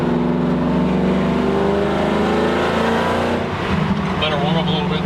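Coyote V8 in a 1969 Ford F100 pickup idling as it warms up, a steady close low rumble with even harmonic drone throughout and a slight shift near the end, with people talking over it.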